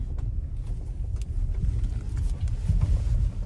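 A 2022 Maruti Brezza drives slowly at low speed, a steady low engine and road rumble from inside the cabin with faint clicks and light wind noise.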